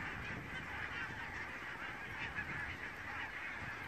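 Geese honking, a continuous chorus of distant calls over a steady noisy background, no speech.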